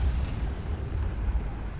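A large gravity cannon breaks away on a comet in the Outer Wilds video game with a sustained, heavy low rumble like a continuous explosion, loud and close, with no voices.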